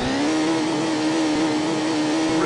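A car engine runs in the arcade racing game Thrill Drive 2, a loud, steady buzzing drone held at a constant pitch, close and alone.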